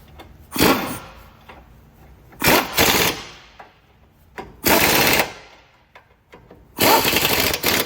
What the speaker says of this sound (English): tighten up the ball joint bolts and nuts